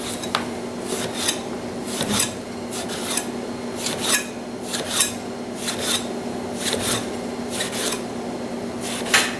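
A knife slices lines down an eggplant, making a dozen or so crisp scraping cuts in a steady, close rhythm, often in quick pairs, with no talk.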